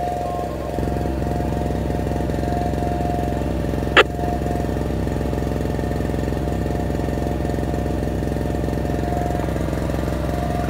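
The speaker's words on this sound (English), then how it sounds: "Little Harbor Freight generator." A small Harbor Freight generator runs nearby with a steady, fast, buzzing engine pulse throughout, broken by a single brief sharp click partway through.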